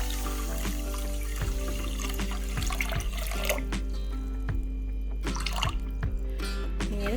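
Water splashes and trickles into a vessel as it is poured for sugar syrup for rava gulab jamun, with repeated drips and knocks over a steady low hum.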